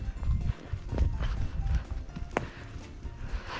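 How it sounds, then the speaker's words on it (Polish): Horse hooves clip-clopping at a gallop across ground, a steady close rhythmic pounding with faint background noise and no talk. "Super koń."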